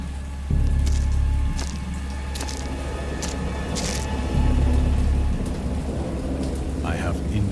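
A thunderstorm of steady rain with low rumbling thunder that swells loudly at the start and again midway, a continuous close downpour with no voices.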